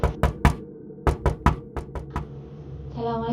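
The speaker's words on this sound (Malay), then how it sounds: "memberanikan diri mengetuk pintu rumah" Several sharp knocks on a house door at night, struck in quick uneven groups of two and three, fairly close and loud, with a faint hum underneath and a brief tonal sound rising at the end.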